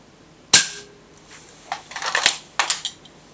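Shanghai QB78 air rifle firing a single sharp, loud shot, followed by a few lighter metallic clicks and clatters.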